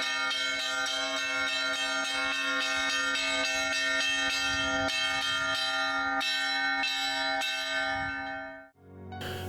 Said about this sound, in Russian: слышать колокольный звон